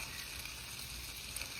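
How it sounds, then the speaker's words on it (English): Okra roasting with melting butter on the bottom rack of an oven gives off a steady, even sizzle, a soft continuous hiss that holds at one level throughout without pauses. "So here's my okra. I have moved it down to the bottom rack. And you see in how it has a nice sizzle going on."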